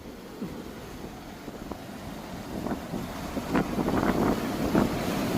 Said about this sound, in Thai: โอ้โหคลื่นใหญ่มากเลย